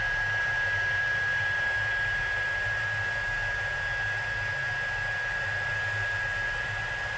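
A heat embossing tool blows hot air in a constant, even rush with a thin steady whine running through it, close and loud, unbroken and without talk.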